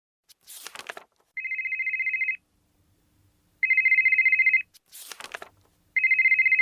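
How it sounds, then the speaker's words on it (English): A phone rings in repeated electronic bursts, three in all, with short rustling, crinkling noises in the gaps between rings. "Do you mind turning off your phone?"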